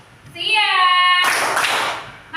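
Children in a classroom clapping game clap their hands together in a short burst, loud and close, after a brief sung or called tone.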